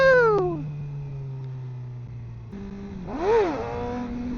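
Motorcycle with an M4 exhaust, its engine holding a steady idle drone that drops briefly before a quick throttle blip rises and falls in pitch, then settles back into a lower idle, moderately loud and near.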